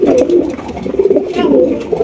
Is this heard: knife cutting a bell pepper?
no